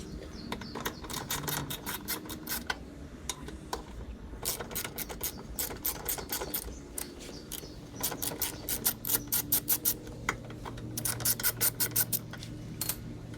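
A ratchet clicking in quick bursts while a bolt is fastened on a Craftsman mower, close and fairly quiet, with short rhythmic runs separated by pauses.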